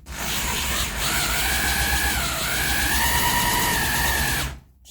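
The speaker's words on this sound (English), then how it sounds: "I've got my SDS drill in normal drill mode connected up" An SDS drill in normal drill mode runs steadily, used while repairing the boot floor of an Austin Mini. It gives a loud, close, continuous motor whine that wavers slightly in pitch and cuts off near the end.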